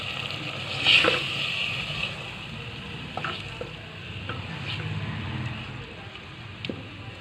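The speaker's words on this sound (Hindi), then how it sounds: "टमाटरों को इतना फ्राई करना है कि ये सॉफ्ट हो जाए" Chopped tomatoes fry and sizzle in a pan for chicken karahi biryani, with a steady soft crackle broken by a few light stirring clicks and scrapes, fairly quiet and close.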